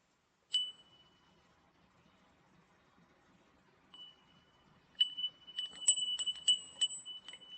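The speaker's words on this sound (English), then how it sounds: "Alright, moon phase wind chime." A moon phase wind chime rings with bright metallic tones: one clear strike, a quieter ring a few seconds later, then a quick cluster of overlapping chimes that shimmer and sustain close by.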